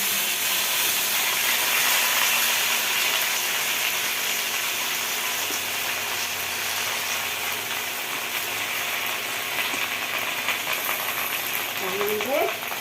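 Whole spinach leaves frying in a pan with green chillies, giving a steady, close hiss and sizzle throughout, with faint clinks near the end.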